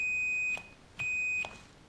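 A keyed Midland CB radio microphone emits high electronic beeps: two steady tones of about half a second each, separated by a short gap, followed by a quieter blip.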